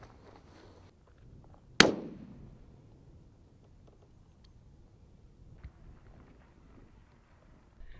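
A single sharp shotgun report cracks across open moorland during an early-season driven grouse shoot, loud and close, then fades into wind and quiet.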